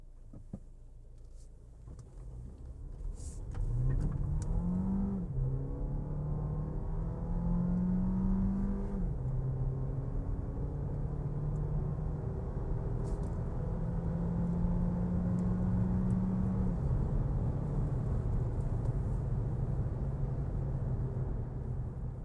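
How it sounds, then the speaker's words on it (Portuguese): A Jeep Compass S 4xe accelerating up a hill, heard from inside the cabin as a steady, moderate low hum that swells and rises in pitch in stepped surges, with no talking. "vamos fazer aquela subida, aquela aceleração na subida que a gente está acostumado a fazer"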